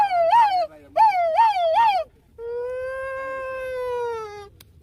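A voice imitates a 108 ambulance siren, singing three loud rising-and-falling wails close up and then holding one long, steady tone.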